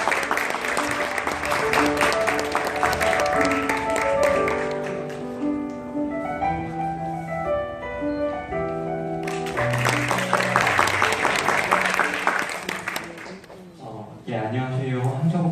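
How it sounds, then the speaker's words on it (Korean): An audience at a school education policy concert claps in loud, sustained bursts, pausing while music plays, then breaking into applause again before tapering off. "여러분 무대로 나올 때 큰 박수 부탁드립니다"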